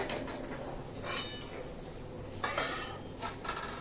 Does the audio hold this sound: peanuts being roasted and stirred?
yes